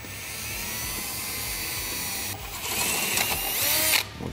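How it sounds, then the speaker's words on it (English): A power drill pre-drills a screw hole for a skid plate on a Can-Am Defender UTV, running close up with a steady whine, then biting in with a louder, rising grinding burst near the end before stopping. "pre-drill this hole right here in the center so we can get our screw to go in"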